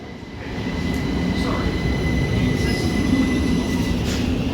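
Class 37 diesel locomotive passing on the railway in West Sussex in light rain, a steady, loud, close rumble of engine and rolling wheels with faint squeals that holds throughout.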